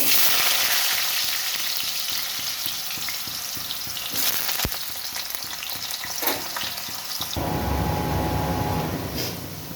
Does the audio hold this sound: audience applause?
no